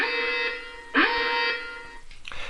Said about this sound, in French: C'est normal qu'au départ il y a l'alarme